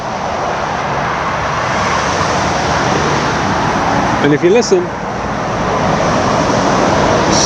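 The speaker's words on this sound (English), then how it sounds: "there's only cars on the road" Steady road traffic roars beside a cemetery, a constant broad wash of passing cars with no gaps, and a voice cutting in briefly partway through.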